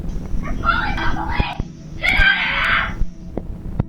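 A girl screams from inside a house on noticing men at her door, loud wailing bursts in two long stretches with a quieter gap between, over a muffled, noisy background.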